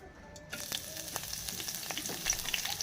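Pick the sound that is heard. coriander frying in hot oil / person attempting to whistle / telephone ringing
coriander frying in hot oil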